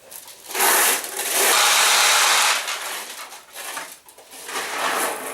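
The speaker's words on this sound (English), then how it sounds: "Now we'll take some balls and put them in your play tray." Pachinko balls pour into the play tray of a Nishijin A pachinko machine, a dense metallic rattling rush in two bursts with a brief lull between them, close and fairly loud.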